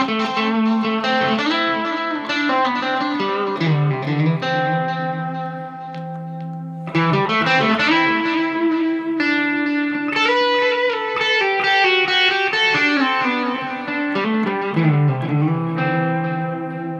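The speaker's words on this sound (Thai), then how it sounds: "อันนี้จะเป็นเสียงแตกที่เกณฑ์อาจจะยังไม่เยอะมากนะครับเรียกว่าเป็น Channel 2 ในแอมป์ละกันนะครับ" A Shabat Lynx electric guitar with mild overdrive plays ringing chords and melodic phrases, slightly gritty and reverberant, with a brief dip before strumming resumes.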